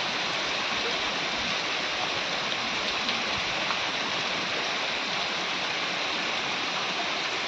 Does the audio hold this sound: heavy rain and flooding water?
yes